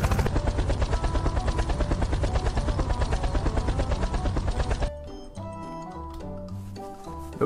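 A helicopter in the video game Unturned gives off a loud, steady rotor chop close by. Partway through it cuts out abruptly, leaving quieter game ambience and a low engine drone.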